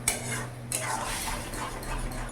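Chili powder and cumin powder stirred into a pan, a utensil scraping and clinking against the metal in brisk strokes, with a faint sizzle underneath and two sharper taps.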